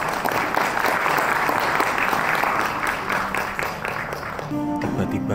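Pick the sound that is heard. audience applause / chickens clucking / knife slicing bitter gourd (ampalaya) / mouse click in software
audience applause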